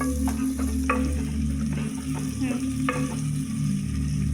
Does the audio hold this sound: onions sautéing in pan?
yes